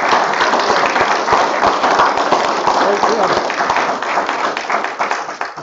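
A lecture audience gives dense, steady applause after a presentation, many hands clapping close and loud throughout, with a brief spoken thanks over it.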